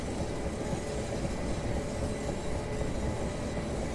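A Class 375 electric multiple unit runs in Train Simulator 2018 on the London Victoria to Ramsgate service, near the Peckham Rye and Denmark Hill branch. It gives a steady, continuous rolling rumble with a faint rhythmic rail clatter and no talking.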